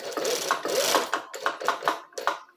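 A two-needle sewing machine stitches on bias binding in several quick bursts of rapid mechanical chatter with short pauses between runs, loud and close with no talking.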